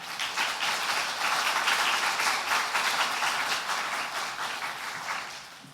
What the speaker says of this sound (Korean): 나오실 때 박수로 맞아주시기 바랍니다